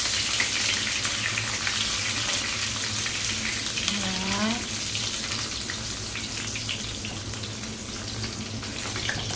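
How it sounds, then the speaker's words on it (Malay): Ginger and garlic fry in hot oil in a home kitchen, giving a soft, steady sizzle with a faint crackle throughout and one brief squeaky chirp partway through. "Kita goreng hingga naik bau."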